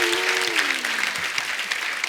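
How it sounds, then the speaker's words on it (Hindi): A studio audience on a comedy talk show bursts into steady, dense applause, sustained clapping filling the room at close range while a faint tone glides underneath. "जोरदार ताली हो जाए।"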